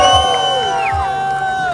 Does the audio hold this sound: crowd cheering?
yes